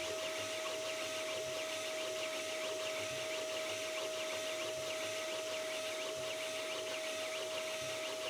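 A new high-speed 3D printer runs at top speed, about 1 meter per second with a high-flow hotend, giving a steady loud whirring drone with a constant tonal whine and faint rhythmic pulses from layer moves, with no talk.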